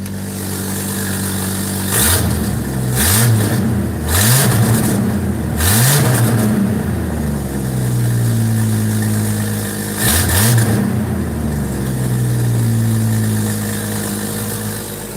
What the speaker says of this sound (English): Push in this button. And that starts the car.